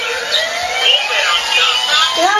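A toy siren wails in a rising and falling electronic tone, loud and close, continuing steadily throughout.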